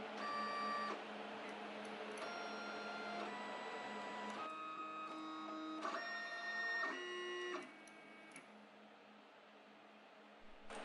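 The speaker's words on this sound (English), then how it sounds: "This moves the cutting head to the point above where it will start engraving." A Gravograph M20 engraving machine moves its cutting head into position: a steady whine of stepper motors shifts through several distinct tonal segments over about eight seconds, then drops to a quieter hum, close and alone.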